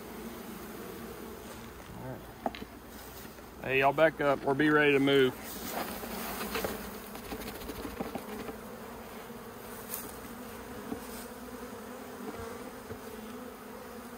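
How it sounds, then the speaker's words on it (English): A dense swarm of bees buzzes steadily throughout, someone speaking briefly near the mic while the droning hum continues. "that's... a lot of bees"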